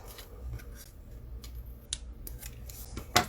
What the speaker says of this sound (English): I gotta trim this off